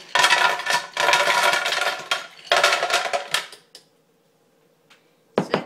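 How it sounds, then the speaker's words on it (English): Ice cubes tumbling into a blender for a lime slush, loud clattering bursts in several rattling waves, then a pause and a final clatter at the end. "So first, we're going to add the ice into the blender."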